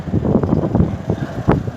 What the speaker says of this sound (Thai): ลมยังแรงอยู่เหมือนเดิม